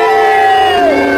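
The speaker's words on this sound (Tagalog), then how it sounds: "Naghihiyawan talaga ang mga tao sa pambato ng Argentina" A boxing arena crowd roars for an Argentine fighter, a dense sustained wall of cheering and shouting, loud and continuous throughout.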